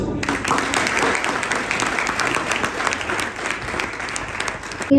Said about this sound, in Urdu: جو بہت اچھا بولے ہیں اردو اور انگریزی میں, کانفیڈنس بھی اچھا تھا, ان کے لیے تالیاں ہو